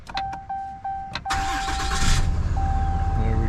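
A 2019 Ram 2500 with the 6.7 diesel engine starts up after a few warning chimes, cranking briefly before catching into a loud, rumbling idle, with a steady beep tone sounding again over the engine.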